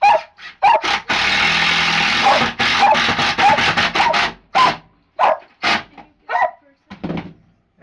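Several dogs bark loudly and repeatedly at an outdoor outhouse door build site, in sharp bursts with brief gaps, alongside some rubbing and rasping noise early on.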